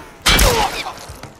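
A single sharp gunshot rings out in The Last of Us video game, a loud crack followed by a short decaying tail and a faint later thump.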